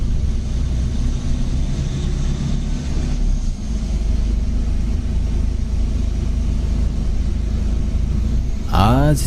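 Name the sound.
bus driving in the dark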